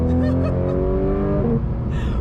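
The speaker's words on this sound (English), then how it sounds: "We're driving in a 2019 Porsche GT3RS." A 2019 Porsche GT3 RS engine drones steadily from inside the moving car, a loud, sustained tonal roar with a brief shift in pitch partway through.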